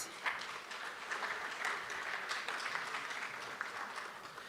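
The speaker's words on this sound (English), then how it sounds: "Let's give the DM a round of applause." An audience at a parole review summit claps steadily for several seconds, a dense, even patter of many hands in a hall.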